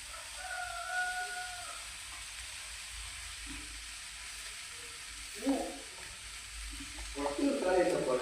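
Onion and grated coconut sizzle in a pan for a sprouted black chickpea sundal, a steady soft frying hiss with a few stirring scrapes and clatters growing busier toward the end.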